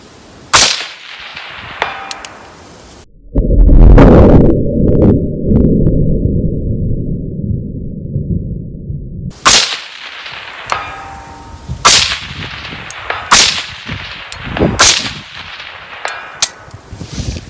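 Rifle shots fired with Hornady ammunition at a 300-yard range: several sharp, loud cracks spaced a second or two apart, with a stretch of broadband wind-like rumble between the early and later shots and no talking.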